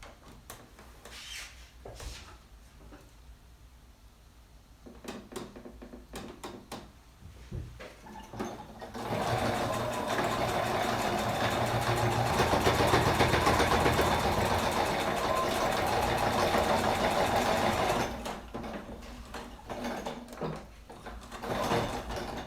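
A sewing machine top stitches a fabric pouch in a sustained whirring run through the middle after scattered clicks and handling, then stops with more small taps and rustles.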